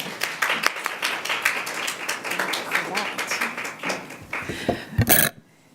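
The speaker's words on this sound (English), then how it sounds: "So please give her a round of applause." Audience applause at the opening ceremony of a 2016 conference, a dense wash of clapping hands filling the room for about five seconds before stopping abruptly.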